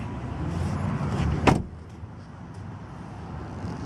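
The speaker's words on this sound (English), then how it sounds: "Close the door there." A single solid thud comes as the door of a Hyundai Sonata swings shut close by, cutting a steady outdoor background hum, followed by quieter ambient noise and a couple of faint clicks.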